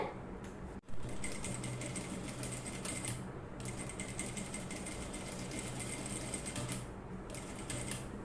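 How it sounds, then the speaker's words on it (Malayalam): A sewing machine stitches the round neckline of a garment in long continuous runs, its rapid needle chatter close and steady, broken by brief pauses between bursts. "ആ മാർക്കിങ്ങിന് മുകളിൽ തന്നെ സ്റ്റിച്ച് ചെയ്ത് കൊടുക്കുക"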